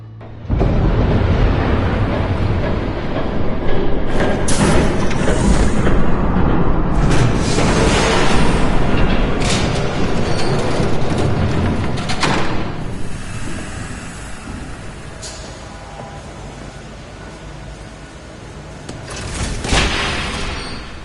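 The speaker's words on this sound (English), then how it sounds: "There's a train coming." A train in a Batman video game rumbles in and thunders past, a loud, dense low roar that swells and stays heavy for many seconds, with clanks and rattles, then gradually fades away.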